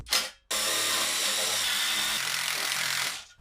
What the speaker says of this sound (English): Now, I'm going to try drilling it out.